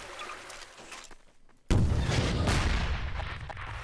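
A gunshot in Garry's Mod fired at a jammed lever hits as one sudden loud blast partway through, then rolls into a sustained rumbling roar after a quieter stretch of low ambience.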